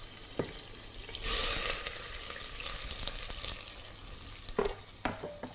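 Diced onion fries in butter and oil, giving a soft continuous sizzle broken by stirring clatters and a few utensil knocks. It is close and fairly quiet, with no talking.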